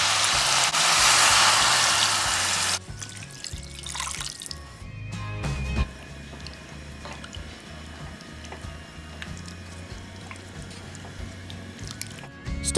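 Water poured onto mutton in a pressure cooker: a loud rushing pour for about three seconds, then quieter drips, sloshing and a few pot clinks close by.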